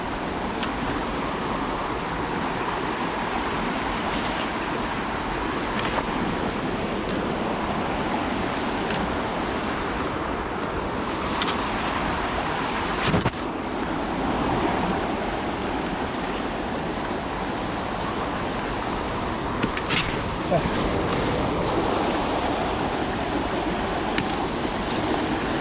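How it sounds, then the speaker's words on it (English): A small waterfall beside a trail at Fall Creek Falls State Park pours in a steady, broadband rush that stays loud and constant throughout, with no talking. "There's a waterfall right here."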